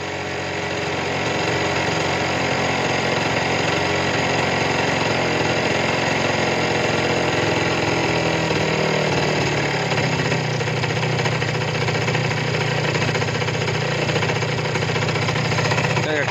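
A small two-stroke engine with an overflowing carburetor runs loud and continuous nearby, its buzzing drone easing to a lower idle midway as the carburetor is adjusted.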